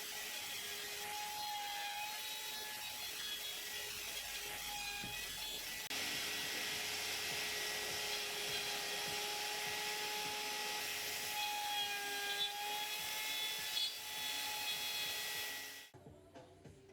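A router running on a router sled cuts a mortise in wood, producing a steady whining, rubbing machine drone with faint tonal hum for about sixteen seconds before it abruptly stops.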